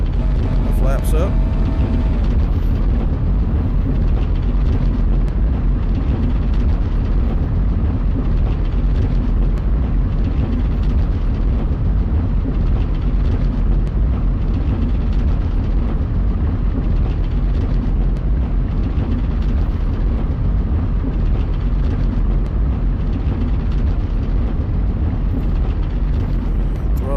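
Aircraft engine in the World Flight VR game throttling up while taxiing, a loud steady broadband drone running continuously, with a voice talking over it.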